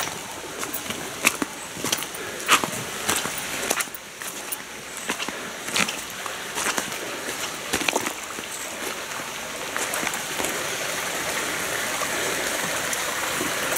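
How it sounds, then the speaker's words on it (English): Continuous rushing of a waterfall and stream near Paris, Illinois, a steady broad wash of water with scattered brighter splashes, heard close and alone. "This is the waterfall?"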